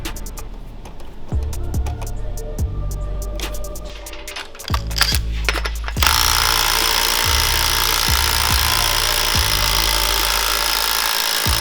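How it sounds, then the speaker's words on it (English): A wrench tightens a cable housing during the build of a vintage off-road go-kart kit, making a steady series of sharp metallic clicks about a second apart before a loud, continuous broadband noise takes over. "put your wrench on there and really tighten it"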